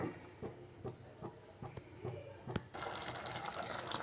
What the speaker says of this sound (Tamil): அடிஷ்னலாக ஒரு 1 கப் தண்ணி சேர்க்குறேன்